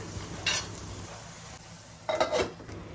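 Sev tameta curry base sautéing in an open pan, with soft sizzling throughout and two brief bursts of stirring and scraping against the metal.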